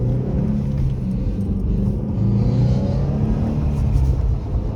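A 2-liter Subaru STI EJ207 twin-scroll turbo engine drones with a deep, loud rumble from close by, holding steady with slight swells in revs and no talking.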